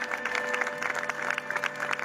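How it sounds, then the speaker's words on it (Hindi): A crowd at a live Christian worship convention claps briefly, a short, fairly faint patter of applause heard over sustained tones from the hall. "जोरदार तालियां यहोवा जिंदा खुदा के लिए"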